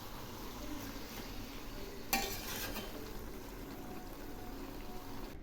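Hilsa fish head curry stirred in a pan, a steady soft scraping and sizzle with one sharp clink of the spoon near the middle, close and alone with no talk.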